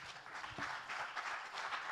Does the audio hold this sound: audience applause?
yes